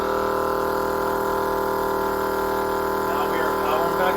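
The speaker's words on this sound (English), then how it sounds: "Turn the valve back on so the compressor can put air into the system." A BullDog Winch air compressor runs steadily while inflating off-road tires, a loud tonal motor hum and drone that holds throughout, with a voice speaking over it.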